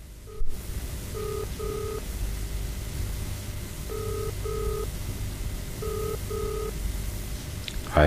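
A telephone being dialed: three bursts of paired electronic tones, each a quick double beep, repeating at regular intervals over steady background hiss, with a click at the start and end.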